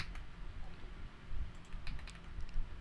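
Computer keyboard keys pressed for a Ctrl+slash shortcut while setting up a Laravel admin template, quiet clustered clicks and typing taps close by over faint background noise.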